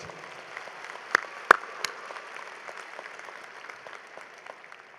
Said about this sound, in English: Give yourself a round of applause for what you have achieved.